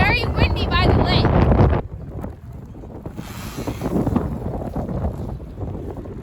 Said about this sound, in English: It is very windy by the lake.